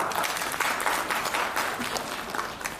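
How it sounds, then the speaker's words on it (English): Sustained applause from a conference audience after a performance, a dense patter of many hands clapping that gradually softens toward the end. "Can you have a round of applause for Tara again?"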